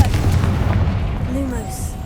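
Heavy low booming blast of a Confringo fire spell in Hogwarts Legacy, a loud rumbling explosion that decays over a couple of seconds with faint tonal game effects above it.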